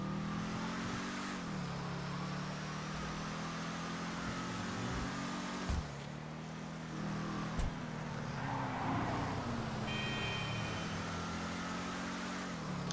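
A Declasse Tahoma Coupe muscle car drives in GTA V Online, its engine droning steadily with rises and dips in pitch as it revs and shifts, plus a couple of sharp knocks, loud and close with no talk.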